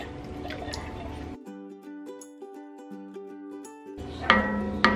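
Canned liquid poured into a soup pot: a wet, splashy pour at the start and end, with a stretch of ringing, stepped tones between, fairly close and moderately loud.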